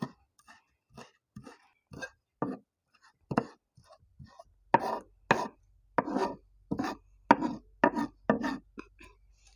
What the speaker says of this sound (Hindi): बारीक बारीक चॉप कर लिया